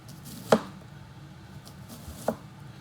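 A knife chops ingredients for homemade tartar sauce on a cutting board: two crisp, separate chops about two seconds apart, close and fairly quiet, with no one talking.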